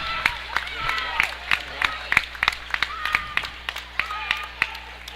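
Applause and clapping rise from the Greenhill cheering section at a 4A boys basketball championship game, sharp irregular claps over steady crowd noise in a gym with a low hum underneath.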